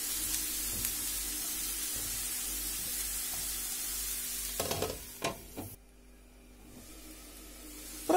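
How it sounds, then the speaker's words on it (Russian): Carrots frying in a covered pan make a steady, soft sizzle that holds evenly, then a few clatters and a sudden drop to near silence near the end. "Будем обжаривать буквально 3-4 минуты, чтобы морковь стал чуть-чуть мягче."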